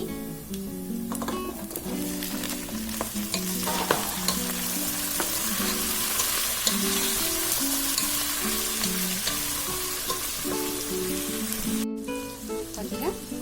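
Eggplant sizzles in a pan with fried onions and curry leaves, a dense, continuous close-up crackle with occasional stirring knocks. A faint tonal hum runs underneath.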